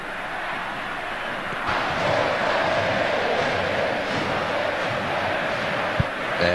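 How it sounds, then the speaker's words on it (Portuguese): A dense, steady roar of Flamengo supporters cheers inside a football stadium during a 2007 Brasileirão match against Internacional, swelling slightly and then holding loud throughout. "você está escutando, é a vibração da torcida do Flamengo"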